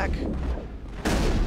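Gunfire in the Mass Effect 1 video game: a heavy booming burst, a brief lull, then another loud blast.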